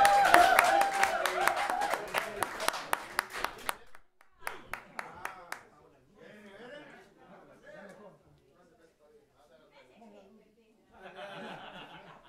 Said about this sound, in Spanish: Señoras y señores, un fuerte aplauso para Jerry, el gitano.